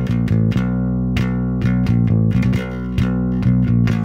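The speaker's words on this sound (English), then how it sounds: "so then we just have that cool riff on B that sounds like this." Bass guitar plays a funky punk riff on B, a driving repeated line of punchy, distorted-edged notes in a tight steady rhythm, loud and close with no voices.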